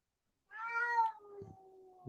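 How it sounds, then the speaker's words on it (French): A cat meows twice: a long, drawn-out meow followed by a shorter one, close by and fairly quiet, with no other sound around it. "Et mon chat est d'accord, si vous l'avez entendu."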